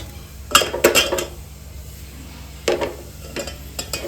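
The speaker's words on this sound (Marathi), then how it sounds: "असं मोठं काहीतरी पातेलं वगैरे किंवा कढई असेल तर ती ठेवा" Several sharp metallic clanks and knocks of a large cooking pot or kadhai being set down, in two short bursts separated by a quiet pause, close by.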